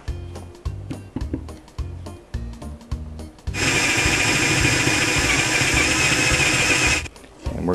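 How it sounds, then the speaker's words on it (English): A power drill bores a hole in wood for the pivot rod of an electric helicopter training stand, a loud steady whine lasting several seconds after a run of short knocks and handling sounds. "So we're going to drill a hole right now."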